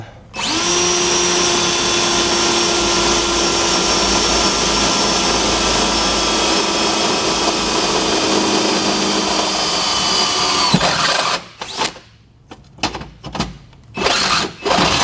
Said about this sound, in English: I think that drill bit's about done. Oh, it's a step bit.